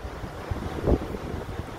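Wind gusting and rumbling against the microphone, a steady low roar with one stronger buffet in the middle.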